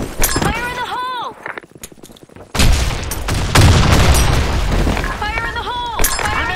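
A grenade goes off in the shooter game Blackshot, a sudden loud broadband blast that rumbles on for several seconds, with shouted in-game voices before and after it.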